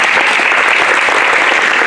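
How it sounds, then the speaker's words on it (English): An audience at a city council candidate forum claps loudly and continuously, a dense close wash of hand claps that stays level throughout. "We will now applaud."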